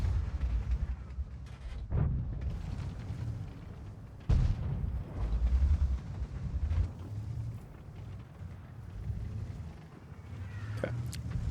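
Tank guns firing in the World of Tanks video game: two heavy booming shots a few seconds apart, standing out over a constant low rumble of battle.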